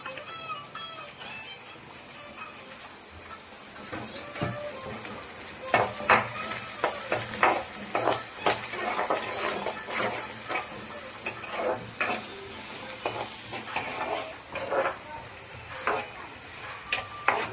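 Onions for egg rice fry in a pan with a continuous sizzle. Repeated sharp scrapes and clinks of a utensil grow busier after the first few seconds. A faint voice and music are in the background.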